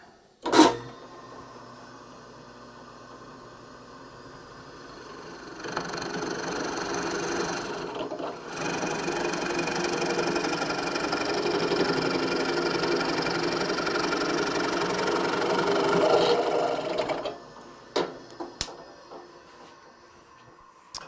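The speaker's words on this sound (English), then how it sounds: "Got that one drilled." A power drill bores a hole through a tree limb, whirring at steady speed for about twelve seconds before stopping, preceded by a click and brief quieter motor hum, with a few knocks afterward.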